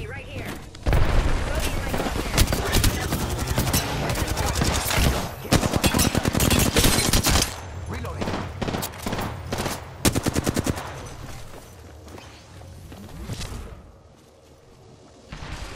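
Rapid automatic gunfire and heavy bursts in an Apex Legends ranked match, loud and dense with repeated volleys and booms, briefly easing then resuming near the end, with game voice callouts mixed in.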